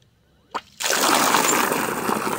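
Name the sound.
refilling a dog's water bowl with fresh water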